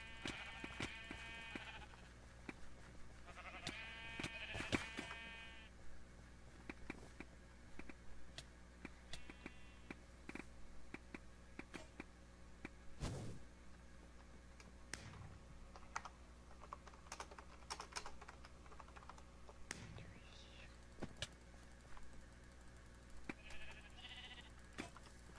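Synthetic sheep bleats from the Minecraft Mineplex arcade game sound intermittently, with a strong pair early on and another at the end, under steady computer keyboard typing and clicking, with no talking.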